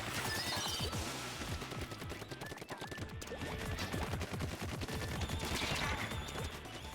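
Rapid, continuous bursts of ink weapon fire from a Splatoon 2 match in the Octo Canyon and Octo Expansion modes, dense and steady throughout, mixed with game sound effects and music.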